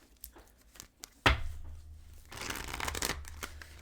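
A tarot deck shuffled by hand, a brief riffle snap followed by a steady, continuous papery shuffling close to the listener, fairly quiet in a calm indoor setting.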